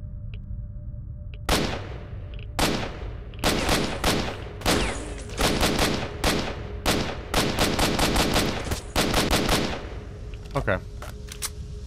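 Gunfire in the video game S.T.A.L.K.E.R. Shadow of Chernobyl: sharp single shots at first, then dense bursts of rapid automatic fire, loud and close, ending in a few spaced shots.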